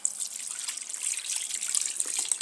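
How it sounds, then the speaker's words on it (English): A sensor-activated automatic tap runs steadily while hands are washed beneath it, giving a close, continuous hissing splash of water with small spatters and drips and no voices. "See, when I put my hand, the water starts going."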